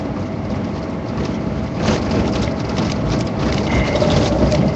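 Heavy rain drums steadily on a metal roof, a dense continuous patter with a low rumble underneath and no voices.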